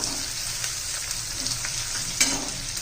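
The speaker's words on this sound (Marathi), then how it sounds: "कांदा पण आपला बऱ्यापैकी झालेला आहे आता त्याच्यात आपण आता टोमॅटो घालून घेऊया" Tomatoes go into onions already frying in a pan for a pea and potato curry, a steady broadband sizzle running throughout with a brief louder burst near the end as the pieces hit the hot oil; no voices.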